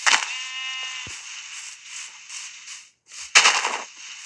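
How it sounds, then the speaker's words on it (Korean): Sheep bleat in the Minecraft video game, a string of wavering, nasal calls close by, followed after a short silence by a burst of crackly noise. "양소리 뭐야?"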